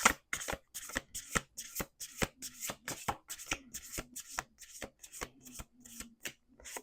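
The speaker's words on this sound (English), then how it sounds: "Let's do 2 more shuffles." Rapid riffle shuffling of playing cards, crisp repeated flutters in quick bursts, close up with no voices.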